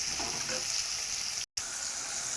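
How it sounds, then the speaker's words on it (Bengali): Potato and green chili fry in a black wok with a steady, fairly quiet sizzle and light stirring, broken by a brief dropout near the middle. "আলুটা কাঁচা লঙ্কাটা একটু ভালো করে ভাজি"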